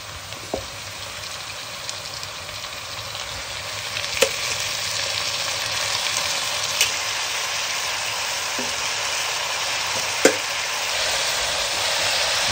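Wild boar meat sears on high heat in a hot pan for a Tuscan stew, giving a steady, close, broadband sizzle throughout, broken by a few sharp clicks and stirring knocks.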